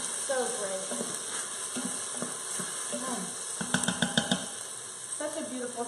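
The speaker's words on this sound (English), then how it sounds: "Give it a nice little stir" Broccoli, cauliflower and potato soup with rosemary is stirred in a pot, giving soft scraping and a light sizzle, then a short run of clinking utensil taps, while a person talks throughout.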